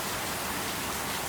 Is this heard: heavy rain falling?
yes